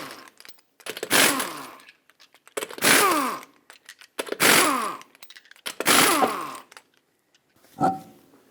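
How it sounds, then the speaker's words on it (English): An impact wrench on a 19mm socket zips off the lug nuts of a 2008-2012 Honda Accord, five loud, close bursts of about a second each, separated by short pauses. "Use a 19mm socket, remove all 5 lug nuts, and then remove the wheel."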